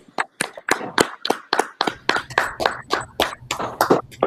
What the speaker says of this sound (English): Hey, clap it up, everybody. Clap it up.